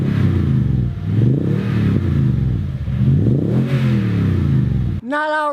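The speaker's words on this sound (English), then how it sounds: "Makes a great sound when you're accelerating. It's not obnoxious, but it's got that nice V8 rumble." A Toyota TRD off-road truck's V8 with optional dual exhaust rumbles and revs as it accelerates, a deep, throaty engine note rising and falling for several seconds before cutting off, with a voice starting at the end.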